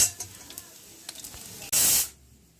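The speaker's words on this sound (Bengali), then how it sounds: "ও যেহেতু খায় না তাই তেলেই ভাজছি" Egg fritters frying in oil in a home kitchen over low heat give a loud burst of hissing sizzle that lasts about a third of a second and then fades. Faint clatter comes before it.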